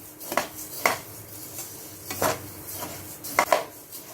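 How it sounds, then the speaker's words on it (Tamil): Coriander seeds dry-roasting in a pan, heard as a few separate scrapes and clinks of a spatula against metal over a quiet background, close but fairly soft. "நம்ம முதல்ல மல்லியை நம்ம வந்து வறுத்து எடுத்துக்கலாம்"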